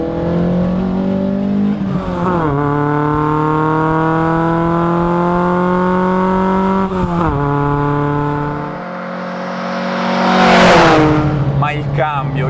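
The engine of a Fiat 131 Abarth rally car runs loud and close, holding steady high revs, dipping, then climbing again in a sharp rev burst before settling, with no talk over it.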